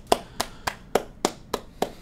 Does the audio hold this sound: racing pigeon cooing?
no